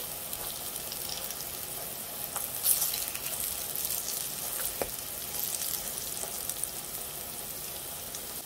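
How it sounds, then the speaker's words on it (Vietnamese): Chickpea tofu fries in oil in a pan with a steady, soft sizzle throughout, broken by a few brief louder crackles and spatters. "Bây giờ mình tắt bếp và chiên xong rồi các bạn."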